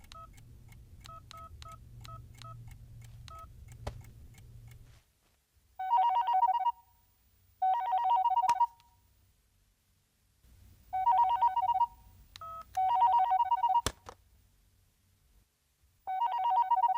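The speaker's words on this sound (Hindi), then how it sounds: "राधा को फोन करते हैं।" A telephone rings in a Hindi comedy film scene: short dial-like beeps first, then repeated loud bursts of ringing separated by brief silences, with no talk.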